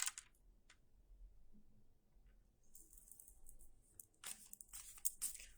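Quiet crisp riffling and snapping bursts of cards being shuffled, a few short flurries separated by pauses, close by with no talking.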